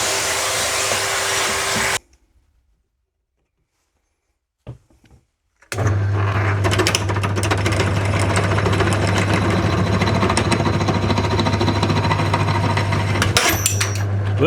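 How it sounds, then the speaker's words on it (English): An electric drill bores into material for a self-raising antenna mast, running loud and steady for about two seconds, stopping, then whirring again continuously with a strained hum for roughly nine seconds. "I wish I had a better drill bit."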